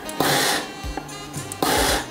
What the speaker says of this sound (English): A little test on the sewing machine to make sure that the buttonhole works.